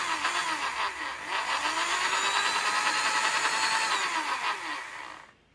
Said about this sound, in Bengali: দেয়ালে যদি ড্রিল করতে চাই, তাহলে এইখানে যে এই অপশানটা রয়েছে এটা হচ্ছে ইম্প্যাক্ট ড্রিল